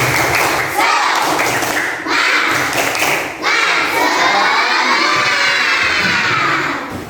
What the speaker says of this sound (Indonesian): Kita coba tepuk semangat bersama-sama.